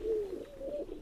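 Pigeons being released to fly for a wager give a steady low cooing across the whole second, close and moderately loud, with no other sound.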